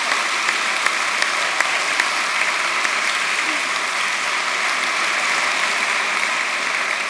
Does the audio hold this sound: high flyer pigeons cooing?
no